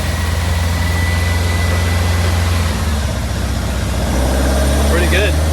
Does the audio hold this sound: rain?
no